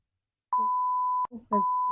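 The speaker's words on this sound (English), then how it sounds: "I'm gonna beep it out" A censor beep bleeps out a name in a podcast conversation: two steady tones, the first long and the second starting near the end, with short bursts of talk between and around them.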